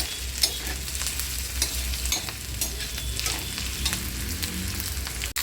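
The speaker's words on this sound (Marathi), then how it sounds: "आपला कांदा भाजत आलेला आहे" Chopped onions sizzle and fry steadily in a pan while being stirred for a cheesy egg chutney, a continuous close crackling hiss with scattered spatula scrapes and no voices.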